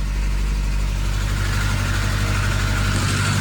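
An old Saab car engine idles steadily with a deep low rumble, continuous and close, no voices, making a noise that signals a problem.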